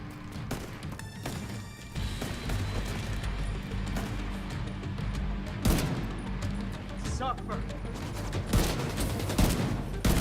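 Video game gunfire cracks out in rapid, dense volleys and single shots over a continuous loud battle din, near and punchy throughout, with faint chatter mixed underneath.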